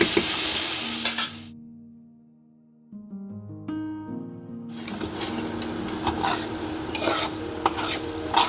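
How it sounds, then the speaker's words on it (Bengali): Potatoes fry in hot oil flavoured with nigella seeds and are stirred in a pan. A bright close sizzle is followed by a quieter gap with faint tonal sounds, then loud sizzling and stirring resume. "আলুটা একটু লাল লাল করে ভাজা হয়ে যায়।"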